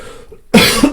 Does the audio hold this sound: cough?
yes